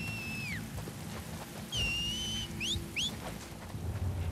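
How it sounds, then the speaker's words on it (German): Scars whistling to one another in The Last of Us Part II, several clear rising and falling tonal whistles, a long one followed by two short swoops, over a steady bed of rain and low ambient rumble. "Wo pfeifen sie?"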